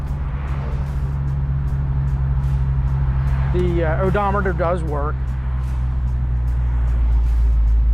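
A 1969 Chevrolet Camaro RS/SS convertible with a 350 V8 and Flowmaster exhaust idles with a steady, deep low rumble that runs throughout, while someone talks over it.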